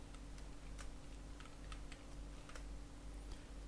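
Code being typed on a computer keyboard, quick quiet key clicks in short irregular bursts, close and faint, no talking.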